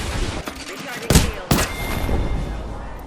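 Gunfire in the video game Apex Legends rattles in quick bursts with two sharper, louder shots standing out, layered over dense game ambience and busy action noise.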